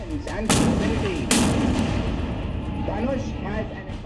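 Two heavy blasts from a Dhanush 155 mm howitzer boom close by at a Republic Day display, a second apart, each a sharp broadband crack with a long rumbling tail, while a voice talks underneath.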